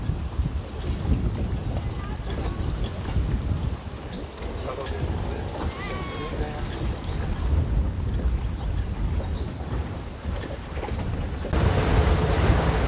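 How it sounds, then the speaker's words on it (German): Strong wind buffets the microphone on a boat at sea near Swinemünde, over a rushing wash of waves and water along the hull, loud and continuous with brief voices in the mix. "weil der Wind, der drückt jetzt wie verrückt."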